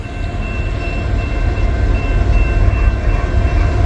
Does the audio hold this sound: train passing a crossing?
yes